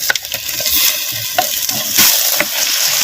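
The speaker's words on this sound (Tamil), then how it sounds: "இப்போ இஞ்சி பூண்டு விழுதுகளை நல்லா பச்சை வடை போகிற அளவுக்கு நல்லா எண்ணெயில் நல்லா வதக்கு நல்லா வதக்குறோம். அப்படியே மட்டன் சேர்த்துக்கிறேன்." Mutton sizzles in hot oil with ginger-garlic paste while a spoon scrapes and stirs it, loud and close, with crackling frying noise throughout and no voices.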